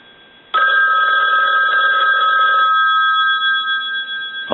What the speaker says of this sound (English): we want to ring it with the analyzer